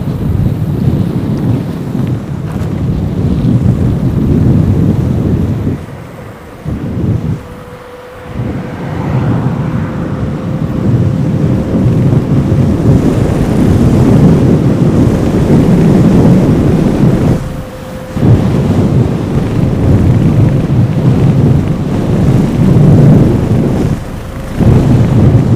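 Strong wind buffets the microphone of a touring cyclist in South Korea, a loud continuous roaring rush with brief lulls and a faint steady tone running beneath.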